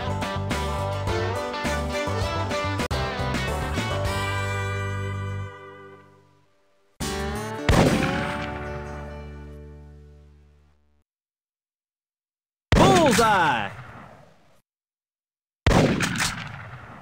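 Heavy booming gunshots from the Big Buck Hunter Pro arcade game in a bison hunt, four loud separate blasts, each ringing out with a long fading tail and silent gaps between them.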